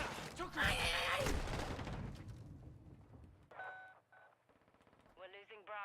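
Gunfire in Call of Duty Modern Warfare 3 multiplayer: a dense burst of close automatic fire that tails off into quieter shots, with electronic beeps and a voice callout.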